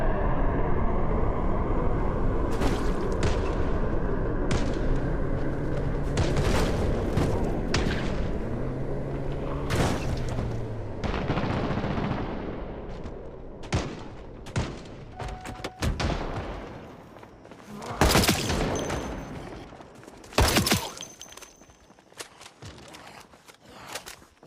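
Aircraft passes low in Project Zomboid while bursts of strafing gunfire and heavy thuds crack out, loud sharp impacts scattered over a droning engine, growing more sporadic toward the end.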